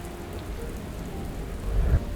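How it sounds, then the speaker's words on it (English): Thunderstorm rain in the Minecraft video game: constant hiss of rain on surfaces with a low rumble of thunder swelling near the end, no voices. "silent beneath a thunderstorm"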